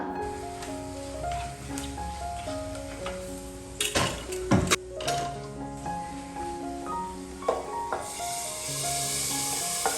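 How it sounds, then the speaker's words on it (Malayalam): Sambar powder and spices sizzling in hot oil, giving a steady, close sizzle with scattered ticking pops and a few louder bursts, over steady tonal background sounds. "ഇനി ഇവയെല്ലാം കൂടിയിട്ട് എണ്ണയിൽ നന്നായിട്ടൊന്ന് മൂപ്പിച്ചെടുക്കുക."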